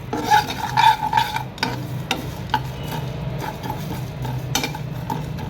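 Spices being stirred as they dry-roast in a pan for a Lucknowi beef masala, with scraping and rasping from the utensil on the pan, a few louder clinks early on and a faint sizzle underneath, close up and without talk.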